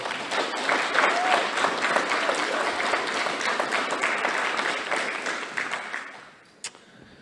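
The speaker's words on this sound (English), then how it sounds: "give them another round of applause" Applause for a school choir at a primary school Reconciliation Day event: a dense, steady wash of many clapping hands for about six seconds, then tapering off, with a lone bump at the end.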